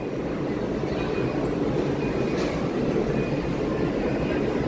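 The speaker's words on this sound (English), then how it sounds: "monorail green is here." Green monorail train at Walt Disney World arriving, a loud, steady rumbling roar with a faint high whine, heard close and without talk.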